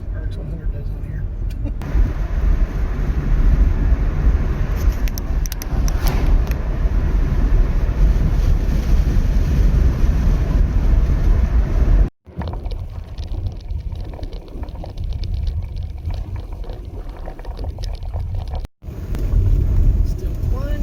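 Car driving along a bumpy road, heard from inside as a loud, continuous low rumble with irregular thumps and rattles, briefly cutting out twice; no speech stands out over the road noise.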